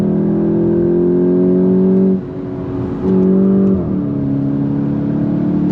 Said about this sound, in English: Second gear, you ready? On throttle, here we go. All the way up to red line.